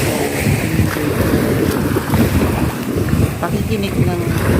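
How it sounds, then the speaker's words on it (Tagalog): Surf rolls continuously onto Calayo Beach in Nasugbu, Batangas, a dense, even wash of waves mixed with strong wind noise on the microphone. "Pakikinig ng waves dito."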